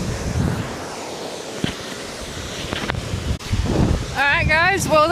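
Strong wind buffets the microphone at Serpentine Falls under an overcast sky, a constant loud roaring rush with gusty swells, and a high warbling tone rising near the end.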